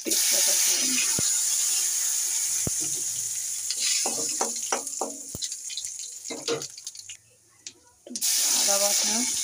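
Cumin and bay leaf hit hot mustard oil in a wok with a loud, bright sizzle that fades under someone speaking, then surges back to full strength at the end.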